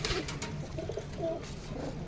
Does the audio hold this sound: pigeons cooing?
yes